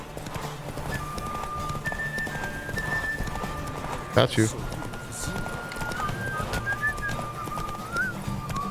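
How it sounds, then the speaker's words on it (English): A horse in The Witcher 3 gallops with quick, rhythmic hoofbeats clopping across the ground, with a sharp thud midway. Someone talks briefly over the running. "The horse is gonna run out of stamina."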